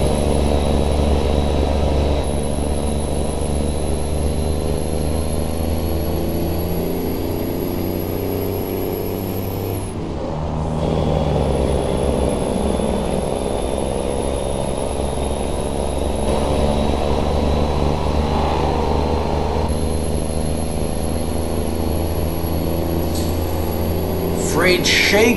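A custom Freightliner truck with a Cummins N14 engine in American Truck Simulator, pulling a Great Dane reefer trailer, gives a loud, continuous, low droning engine rumble with a brief dip midway, under intermittent talking.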